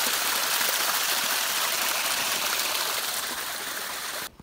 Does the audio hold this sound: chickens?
no